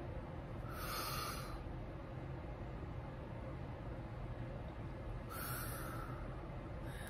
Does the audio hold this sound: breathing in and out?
yes